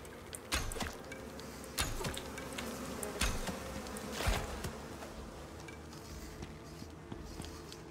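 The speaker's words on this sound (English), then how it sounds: "I think there were more bees in there." Bees buzzing in the survival video game Icarus: a steady, close insect drone runs throughout, with a few soft thumps and clicks rising above it.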